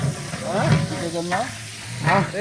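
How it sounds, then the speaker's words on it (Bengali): Biryani cooking in a pot for a Victory Day meal, with a steady frying sizzle and the scrape of stirring, punctuated by a few rising whistling or squealing tones over the constant hiss. "এই যে আমাদের বিরিয়ানি রান্না হচ্ছে এখন"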